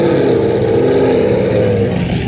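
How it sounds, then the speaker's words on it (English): Aston Martin Vantage GT8 at a hill climb, its engine roaring loud and close in a sustained, rising drone for a couple of seconds, without voices. "one of the best sounding cars at the moment,"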